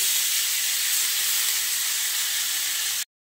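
Cauliflower stalks dropped into hot oil with nigella seeds and dried chilli: a loud, steady, close hiss of frying that holds for about three seconds, then cuts to silence.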